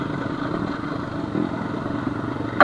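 A Honda CR250 two-stroke dirt bike on a rough trail, its engine droning steadily and close throughout, with slight surges and rattling from the ride.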